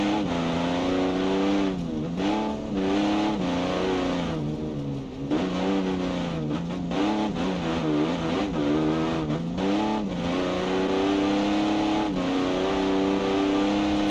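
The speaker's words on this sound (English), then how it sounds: "You can sort of hear the gearbox is sometimes jumping around a little bit." A race car in BeamNG climbs the Pikes Peak hill course, its engine droning loud and close as the automatic gearbox shifts up and down repeatedly, revs dipping and rising in an uneven rhythm.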